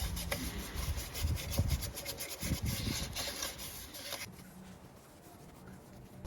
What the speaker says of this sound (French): Petit bout de ponçage pour la portée du joint de la pompe à eau.